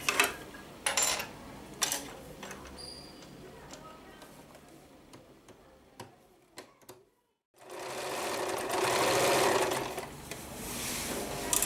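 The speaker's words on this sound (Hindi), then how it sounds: "हमने जहाँ तक मार्किंग की थी वहाँ तक हम सीधा सिलाई करते जाएंगे।" A sewing machine stitches an invisible zip into a lehenga, with short bursts of rapid mechanical whirring, a brief near-silent pause, then a longer steady run of stitching, heard close and fairly quiet.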